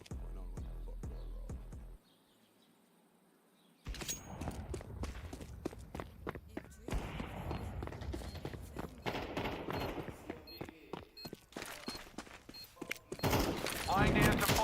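Counter-Strike 2 gunfire in a competitive Faceit match, a series of sharp gunshot bursts mixed with running footsteps, fairly loud and spread across most of the span, with a brief quiet gap early on and voice chat audible at times.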